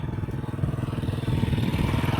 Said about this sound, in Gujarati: બાઈક થી આપણે અહીંથી હાલે છે